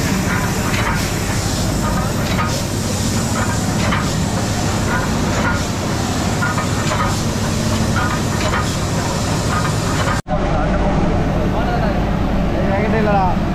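A steam locomotive on the Mettupalayam to Ooty mountain toy train releases a loud, continuous roaring hiss of steam up close, with people talking over it before the sound cuts abruptly to quieter surroundings.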